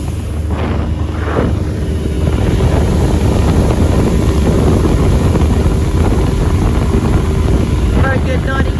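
A Bayliner Capri 1702 LS motorboat with a 90 hp engine runs steadily on the River Medway, a loud continuous engine drone mixed with heavy wind buffeting on the microphone throughout.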